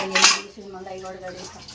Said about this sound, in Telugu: రిప్కా వచ్చేసి అన్నీ కడిగేసింది అనమాట